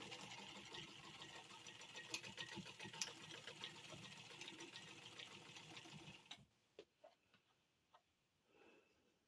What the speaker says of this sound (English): Then you just sew right down through there and make it happy.